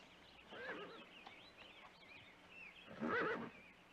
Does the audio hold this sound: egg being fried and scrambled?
no